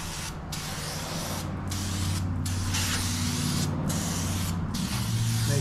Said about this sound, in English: We're going to spray it off a little bit with some brake cleaner just to get all the fluid off.